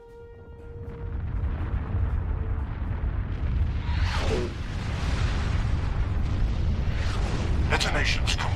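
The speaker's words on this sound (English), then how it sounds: "Detonation's complete. The sphere is neutralized." Detonation of charges planted on a sphere in the Star Trek Online game: a deep rumbling blast swells and rolls on for several seconds, with a brighter burst partway through and crackling debris near the end.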